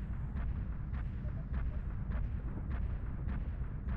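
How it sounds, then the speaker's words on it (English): A tank strike in a video game sets off a heavy, continuous rumble. Repeated explosive bursts hit roughly every half second over it, loud and dense, with no voices. "Tank strike protocol active."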